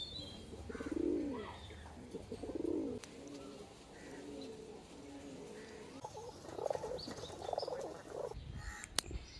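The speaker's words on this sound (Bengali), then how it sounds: "আরসাদ লাইনের পটাশি পায়রা" Arshad-line potashi pigeons coo in a loft, with low rolling calls repeating at moderate distance, mixed with faint chirps and small background noises.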